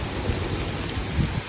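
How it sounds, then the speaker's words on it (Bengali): Heavy downpour in Singapore during the rainy season, a dense, loud continuous roar of rain hitting surfaces close by, with no talk. "ভিজে হচ্ছে সব, প্রচণ্ড বৃষ্টি"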